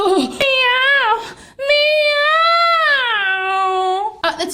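A human voice imitates a cat, giving two long, drawn-out meows, loud and close, with a breath between them.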